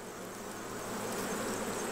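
Honey bees hum in a dense, steady drone as young bees emerge and crawl over a brood frame pulled from an October hive, close and continuous with no talking.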